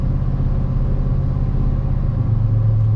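A steady, loud, low exhaust drone fills a Chevrolet Silverado ZR2 pickup cabin at about 70 mph on a highway, a constant hum over road rumble, with no voices.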